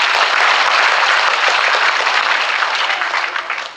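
A room full of people at an annual general meeting in Sangju, Korea, claps steadily, a dense burst of applause that holds strong and then starts to thin out at the end.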